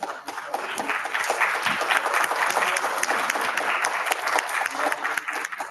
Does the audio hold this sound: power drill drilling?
no